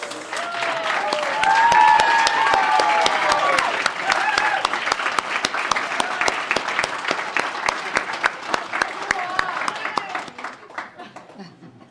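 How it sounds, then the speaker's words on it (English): Sustained audience applause fills the hall at a regional volunteer awards ceremony, dense clapping with cheers and voices over it, gradually thinning into scattered claps before stopping. "if you could all stand up and we'll give you a round of applause."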